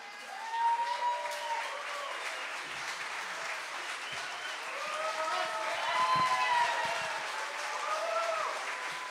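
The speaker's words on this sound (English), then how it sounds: "I've never seen so many single men clapping at once." A crowd of mostly men applauds at the SoapBox Idol event at Porcfest 2023, with steady clapping rising and falling in waves, plus scattered whoops and whistles over the applause.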